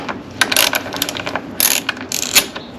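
A ratchet loosens a 10 mm bolt on the power steering reservoir of a Lexus SC430, sounding as close, quick clicking bursts in uneven strokes, fairly loud with no talk.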